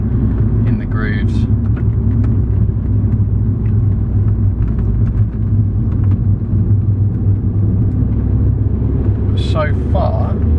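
An Audi S3 8L with a turbocharged engine drives along, its low steady engine rumble and road noise droning continuously under occasional talk inside the car.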